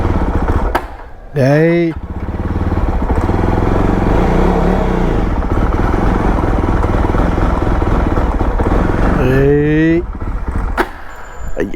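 A Jawa Bobber 42 motorcycle engine runs and revs close by, loud and continuous, while voices shout briefly near the start and again toward the end.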